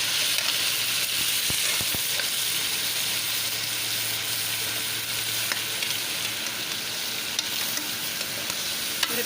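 Chicken fries in hot oil with garlic ginger paste, giving a steady, dense sizzle that runs throughout at an even level. A few faint clicks of stirring come through, with no voices.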